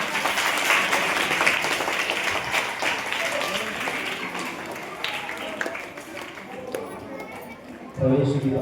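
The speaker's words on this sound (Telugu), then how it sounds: "అందరం గట్టిగా చప్పట్లు కొడదాం." A large audience applauds loudly and steadily at a church inauguration and consecration in a village, the broadband clapping sustained for several seconds and then thinning out with chatter and movement underneath.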